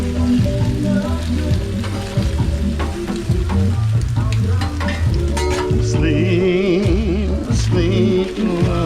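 Brisket fries in a deep fryer on a food truck, a steady loud bubbling sizzle throughout, with music playing over it and clattering kitchen noise.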